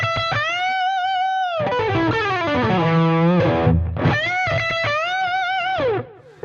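A distorted electric guitar plays sustained notes and bends one sharply upward, stretching it by about two whole tones, then slides back down and rings out in a few more held, wavering notes.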